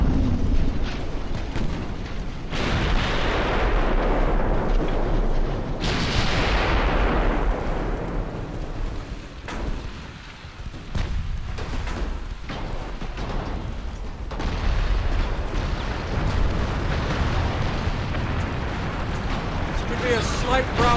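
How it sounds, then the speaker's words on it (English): Warship ammunition detonating in the naval game Ultimate Admiral Dreadnoughts: a chain of heavy, booming blasts and rumbling fire runs on throughout, loud and continuous, with a big burst near the start and swells of roaring explosion. "He's had an ammo detonation."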